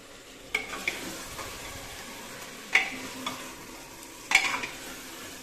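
Chicken curry in a pan with a gentle sizzle, and three distinct scrapes of a ladle against the metal spaced a couple of seconds apart, close and fairly quiet, with no speech.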